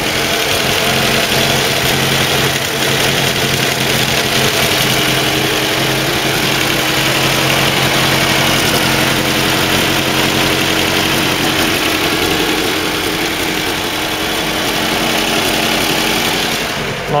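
A 1983 Land Rover Series petrol engine idles with the choke out while warming up, a steady, loud, close rumble with even vibration running throughout and no speech.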